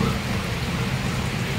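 Heavy rain pouring steadily as a dense, continuous roar, loud and close, with low rumbling mixed underneath; no speech.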